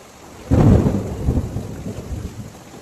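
A loud rumble of thunder breaks in suddenly and rolls on over steady heavy rain, slowly fading but still grumbling at the end.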